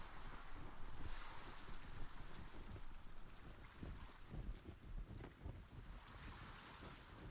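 A heavily loaded raft moves across open water in the video game Atlas, with steady wash of waves and gusting wind noise. The sound is faint, continuous and broadband, with no talking over it.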